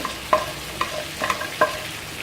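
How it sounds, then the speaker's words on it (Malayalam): Whole cardamom and black pepper, with other whole spices, roasting dry in a pan: a few sharp scraping taps as they are stirred and shifted, spaced irregularly over a low steady background. "കറിയാമ്പൂവ്, ഏലക്കൊക്കെ ഇട്ട് കൊടുക്കുക, കുരുമുളക്. ഇതൊന്ന് റോസ്റ്റ് ചെയ്തെടുക്കുക."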